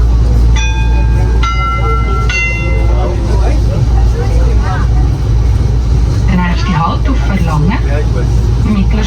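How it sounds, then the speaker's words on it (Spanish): Europe's oldest rack railway train in Lucerne, heard as a steady low rumble of wheels and machinery throughout, with a few brief tonal whistles or squeals early on and people talking over the top. "Este ferrocarril de cremallera es el más antiguo de Europa."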